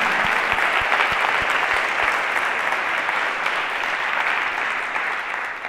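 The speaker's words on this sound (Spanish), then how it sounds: "yo os quería pedir un aplauso para todos los organizadores que están haciendo este evento" An audience applauds the organizers of a talk on death and cyberspace, sustained dense clapping at steady loudness for several seconds, with a few louder individual claps near the start.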